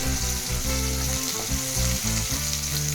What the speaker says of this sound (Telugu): సో ఇప్పుడు దీంట్లోకి కరివేపాకు వేసుకుంటున్నాము, అలాగే కలిపేసుకోవాలి.